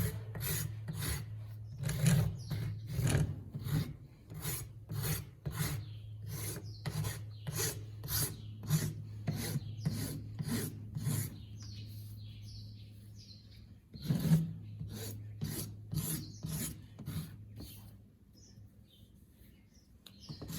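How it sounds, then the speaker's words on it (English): A hand rasp files wood in a series of rough, rhythmic rubbing strokes, close and fairly loud, with a short pause near the middle before the rasping resumes; faint bird chirps sound in the background. "So there's a sharper part on the rasp, and then this is finer to make it look a lot nicer."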